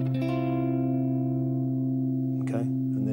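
A ringing electric guitar chord, a major add 11 voicing, sustained loud and steady, then a brief scrape of string noise near the end.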